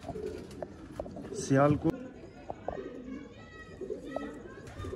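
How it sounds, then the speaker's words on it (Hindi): Pigeon coos, a short bubbling burst of Betera pigeons kept by a Sialkot breeder, heard briefly near the middle while people talk over the clip. "ये बटेरे कबूतर हैं।"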